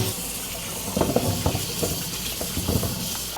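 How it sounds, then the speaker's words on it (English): Tap water runs steadily over vegetables being washed for minestrone, a continuous hiss of flowing water with soft splashes and handling bumps, close and moderately loud. "You want to give them all a good wash."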